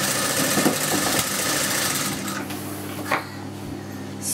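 A sewing machine stitching a seam on a stone beadwork suit, a fast steady mechanical whir that runs for about two seconds before easing into a quieter hum with a faint click.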